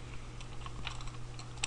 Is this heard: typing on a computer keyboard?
yes